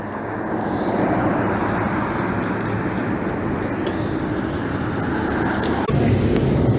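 A city bus pulling up to a stop amid traffic, a steady loud engine rumble and road noise holding throughout, close by, with no talk.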